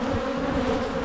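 Honey bees drone in a dense, continuous buzz around an open hive during early spring colony work, close and steady throughout.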